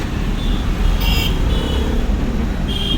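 A car moves off during a driving lesson, its engine and road noise a steady, loud rumble throughout with no pauses.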